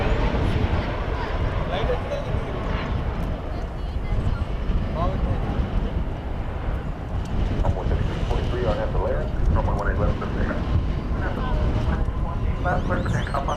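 Airliner taking off at DFW Airport on a flight from Santa Ana, a broad continuous roar heard at a distance with wind buffeting the microphone and a voice talking intermittently.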